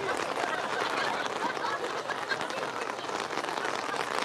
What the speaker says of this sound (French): Je voudrais quand même noter qu'il faut venir à Marseille pour avoir la pluie.